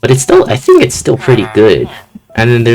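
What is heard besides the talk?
No everyday noises stand out.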